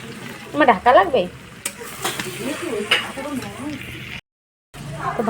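Meat sizzling and frying in a pan at home, with a utensil scraping and stirring it in bursts while a voice talks over the cooking and a brief dropout interrupts near the end.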